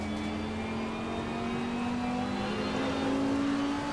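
A race car in the racing simulator Assetto Corsa Competizione accelerates out of a corner, its engine note rising steadily in pitch as a continuous moderately loud drone, with no voices.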